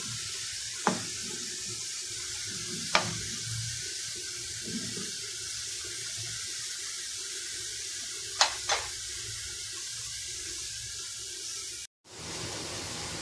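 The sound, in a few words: ingredients sautéing and sizzling in a pan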